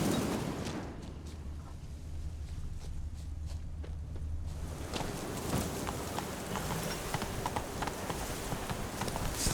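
Horse hooves trot on the ground in The Witcher 3 video game, a steady rapid clip-clop running the whole stretch under low ambient noise, moderately near and fairly quiet.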